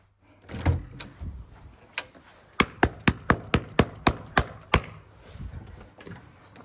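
Indoors, a run of about ten sharp knocks and bangs in a quick regular series, like a back door being unlatched, rattled and pushed open, with softer handling thumps before and after.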